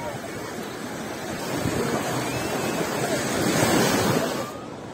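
Sea waves wash steadily onto Sbiaat beach in Ain Temouchent, Algeria, a broad continuous surf roar with wind noise on the microphone, swelling louder toward the end and then easing.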